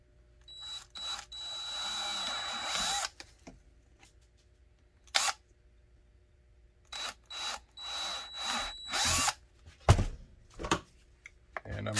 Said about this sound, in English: So what we'll do is we'll go ahead and drill.